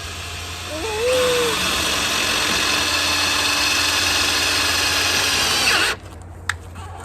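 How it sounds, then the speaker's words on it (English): A power drill driving a screw into a hoop house frame whirs loudly and steadily for about five seconds up close, then cuts off, leaving a quieter background with a single small click. "Get your drill bit lined up."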